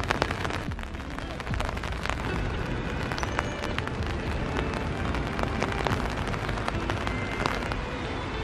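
Rain falls outdoors on a walk along a green path, a dense steady patter of drops with scattered sharper taps, constant and close for the whole stretch.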